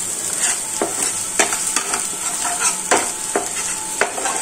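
Spices frying in butter in a home kitchen, with a steady bright sizzle broken by repeated scraping stirs of a spoon against the pan, close and alone.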